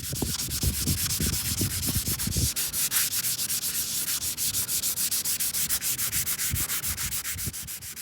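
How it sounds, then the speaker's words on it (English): Block sanding a fiberglass crack repair on an RV body, heard as steady rhythmic rasping strokes, close and loud, continuing back and forth for the whole stretch with no talking. "this is what it's going to look like after you're done block sanding the whole area"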